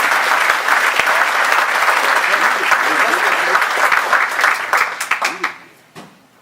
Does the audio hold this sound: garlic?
no